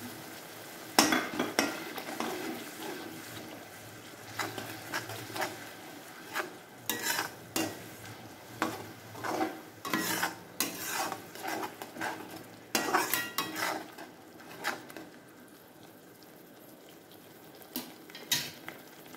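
A spoon stirs and scrapes masala with tomato paste frying in a pan for paneer sabji, in repeated close scraping strokes over a steady sizzle, with no talking.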